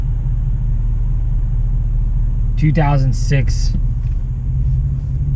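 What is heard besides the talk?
pickup truck engine and exhaust rumble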